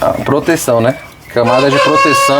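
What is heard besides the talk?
rooster crowing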